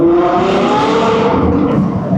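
Ferrari 812 Competizione V12 revving hard near the microphone, a loud rising-and-falling engine wail with quick crisp downshift blips across the whole burst.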